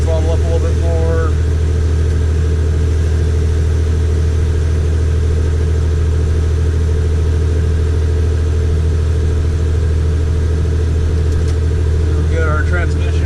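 A farm tractor engine runs loud and close during a corn harvest in Southwest Iowa, holding a steady, heavy drone as it is throttled up, with no speech over it.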